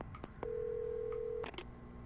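Telephone in the Alan Wake video game: a couple of faint clicks, then a single steady electronic tone lasting about a second, followed by more soft clicks, quiet overall.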